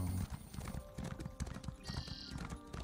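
Horse hooves clip-clop at a walking pace in The Elder Scrolls Online, an irregular series of clear, close hoofbeats with faint game ambience and a short whistle-like tone partway through.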